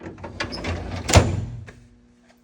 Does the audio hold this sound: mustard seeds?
no